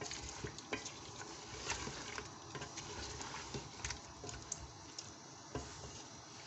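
Steady bubbling and popping of water at a rolling boil in a cooking pot, a continuous close busy patter with small irregular bursts, no talking.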